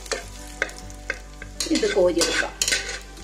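Cashew nuts sizzle in hot ghee for pumpkin payasam, with light spoon stirring and clinks against the pan, then a louder bubbling fry in the middle and a brief spoken word.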